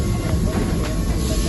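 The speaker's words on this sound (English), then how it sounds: "It's super fast train. It's running almost over 130 kilometers per hour." A high-speed train running at over 130 km/h in India rumbles steadily with a dense low roar and constant rushing noise, heard from inside the carriage, no clear voices.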